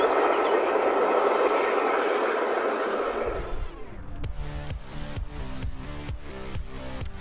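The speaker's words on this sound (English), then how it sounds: "the train is almost leaving the tunnel" A train rumbles through a tunnel with a loud, steady broadband roar that fades out midway, after which music takes over.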